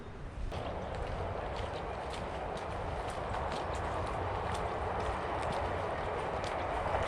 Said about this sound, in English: You may be able to hear a train in the distance.